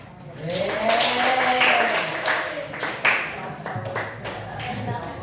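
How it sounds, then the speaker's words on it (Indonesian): Students in a classroom clap together during a class guidance session, a burst of quick hand claps that builds, stays lively, then thins into scattered claps, with an adult voice talking over parts of it. "Kasih tepuk tangan."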